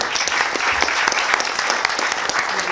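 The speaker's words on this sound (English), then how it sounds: "Give a big round of applause" Steady applause from an audience at a quiz show in Mumbai, dense clapping filling the whole stretch at an even level with no talking.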